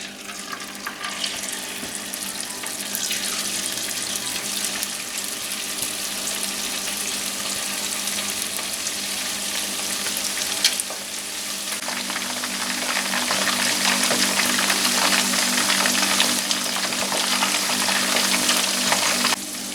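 Quail deep-frying in oil at 180 degrees for a spicy quail dish: a steady, dense sizzle and crackle that runs throughout and grows louder and busier in the last several seconds.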